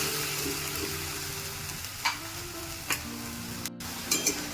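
Paste of green chilies and a medium tomato sizzles and fries steadily in a pan for a Bengali cauliflower-potato dish, with a few sharp stirring scrapes of a spoon cutting through the hiss.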